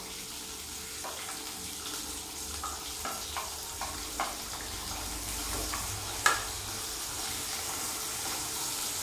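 Finely chopped onion fries in oil with cumin for an egg chutney, a soft constant hiss and sizzle with a few light taps and scrapes. One sharper clank of a utensil stands out, and no one speaks.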